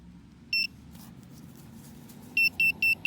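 Just after switch-on, a metal detector sounds one short electronic beep, then after a pause three more quick, even beeps, all close and clear above low background rumble.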